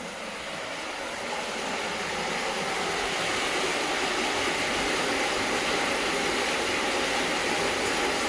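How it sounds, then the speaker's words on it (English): A waterfall near a cave roars in a steady, dense wash of rushing water that holds unbroken throughout, close and fairly loud, with no voices over it. "only got the waterfall left"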